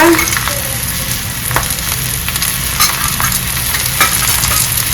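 Thalipeeth sizzles steadily in oil on a pan, a continuous loud frying hiss with a few soft scraping touches, no voices.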